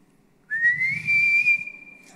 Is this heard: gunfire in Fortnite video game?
no